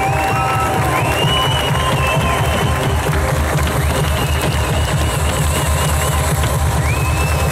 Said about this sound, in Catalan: Forta l'ovació pel nostre equip de capacitats especials